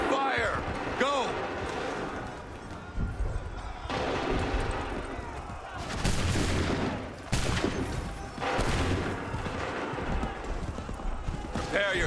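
Musket volleys from soldiers in Assassin's Creed 3, loud bursts of gunfire in several salvos, opening with ragged shots and followed by broad crackling volleys around the middle and later, mixed with battle din and shouted orders.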